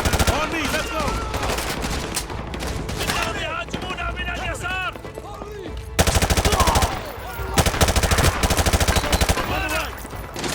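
Heavy automatic gunfire rattles in dense bursts through a Call of Duty Modern Warfare 2 Remastered battle at a school, loud and close, with shouted voices and radio chatter mixed underneath.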